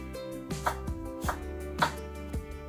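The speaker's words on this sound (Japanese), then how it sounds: "まず玉ねぎ1/2個を細かいみじん切りにしていきます" A knife chopping half an onion finely on a cutting board, steady sharp taps about every half second, close and clear over soft background music.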